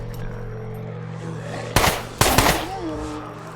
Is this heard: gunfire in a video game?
yes